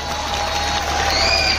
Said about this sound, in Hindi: तो जरा अपने सर के लिए जरा जोरदार तालियां जाए अपने सर के लिए